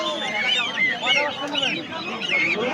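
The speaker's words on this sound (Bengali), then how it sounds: "চীনা হাঁস আছে এদিকে, আবার এদিকে বিভিন্ন বয়সের বাচ্চা হাঁস আছে" Chinese ducks and ducklings of various ages at a village livestock market in Bangladesh give repeated nasal honks and quacks close by, mixed with busy background chatter from people talking.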